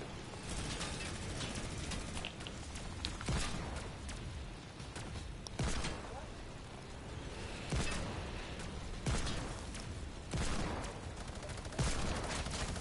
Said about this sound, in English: Those guys are both shooting at us.